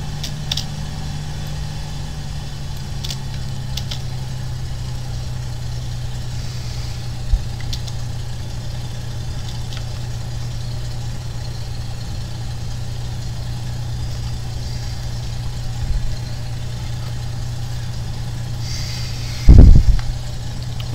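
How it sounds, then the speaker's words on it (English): An aircraft engine idles steadily in Flight Simulator X after sitting unused for months, a constant low droning hum held for the whole stretch with a brief louder bump near the end. "Let the engine do its thing."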